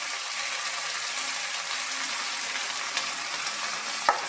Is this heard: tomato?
yes